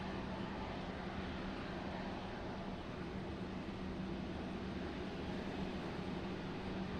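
A Republic Airways airliner at Raleigh Durham International Airport produces a steady, dense engine roar with a low hum, constant and fairly distant with no voices.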